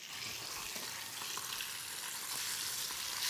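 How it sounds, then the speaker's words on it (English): Steady, dense sizzling of mackerel frying skin side down in a hot pan, loud and close, with crackling spatters throughout and no talking. "Important you hear the sizzle."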